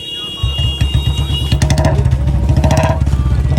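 A Royal Enfield motorcycle converted to BS6 fires up and settles into a loud, close thumping idle, the single-cylinder beats pulsing in a fast, even rhythm.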